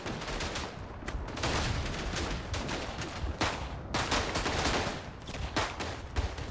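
Dense, continuous World War I gunfire in the Verdun video game on the Vosges map, rifles and machine guns cracking in rapid overlapping bursts, loud and sustained throughout.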